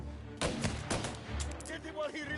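Gunfire in the crime game Mafia: several loud, close shots in quick succession with echoing tails, mixed with game noise and a voice speaking over it.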